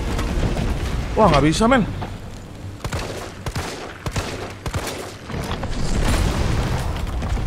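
Flame rounds fired at Nemesis in Resident Evil 3 Remake boom and crackle through the fight, separate heavy shots over a rumbling roar, with someone speaking excitedly during the burst.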